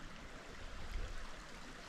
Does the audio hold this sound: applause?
no